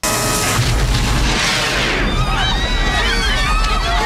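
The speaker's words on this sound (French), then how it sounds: "Et d'une gigantesque explosion." A huge, loud explosion in the film Robocop 2 (1990), with a deep roaring rumble and crackling debris, followed by high whistling and scattered bursts over a sustained din.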